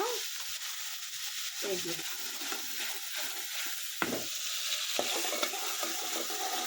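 Fish sizzles and fries steadily in a pan, a constant hiss with occasional stirring clinks and scrapes, fairly quiet and close.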